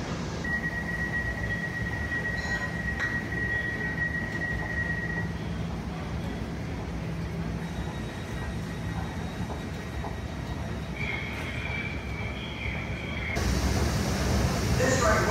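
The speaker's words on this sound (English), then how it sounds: "So here comes the train to Abbey Wood." An Elizabeth Line train to Abbey Wood rumbles steadily as it pulls into a London station platform, with a faint high whine and a louder roar building near the end; no talking.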